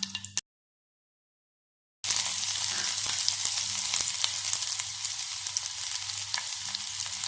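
Onions frying in a pan for a Kerala dried fish and mango curry with ground coconut give a steady, close, loud sizzle. A brief opening burst is followed by a short gap, then continuous crackling frying runs to the end with no talk.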